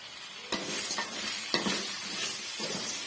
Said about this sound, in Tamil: சட்னிக்கு தேவையான அளவுக்கு உப்பு சேர்த்துட்டு நல்லா வந்து வதக்கி விட்டுக்கலாங்க